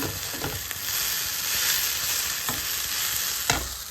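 A vegetable bhaji sizzles steadily in a pan at home while a utensil stirs it, with a few sharp scraping clicks over the constant close frying hiss and no voices.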